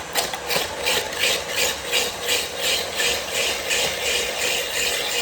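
An electric ice shaver at speed 10 grinds a puck of ice into fine snow, a loud continuous rasping whir with a fast rhythmic pulsing, close and alone.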